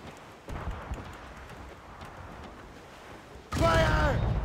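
A naval cannon volley in Assassin's Creed Rogue: scattered distant thumps and crackles through the first part, then a sudden loud burst of booming gunfire near the end, with crew voices shouting.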